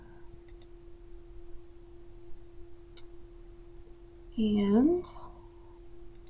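Mouse clicks while closing a folder and refreshing a file manager, a few sharp isolated clicks scattered across the clip with a brief spoken word in between.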